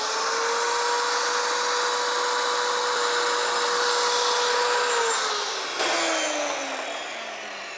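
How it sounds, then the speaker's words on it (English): A power tile saw plunges into backsplash tile to cut a notch, its steady high whine holding level and then dropping in pitch as the blade slows near the end; no voices. "We're just gonna line that up, turn the saw on."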